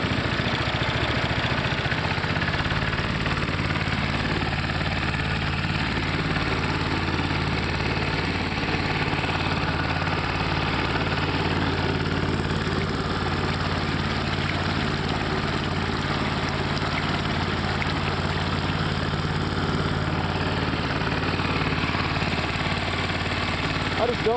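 A gold dredge engine runs steadily and loudly for the whole stretch, a constant droning idle with low harmonic hum and no pauses or clear changes in pitch.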